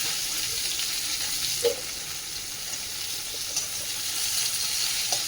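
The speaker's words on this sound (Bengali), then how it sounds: "তো বড়িগুলো ভাজা গেছে, এখন উচ্ছেগুলো ভেজে নেব।" Bitter gourd slices frying in oil in a home kitchen pan, a steady soft sizzle running throughout with a few light clicks of stirring, no voices.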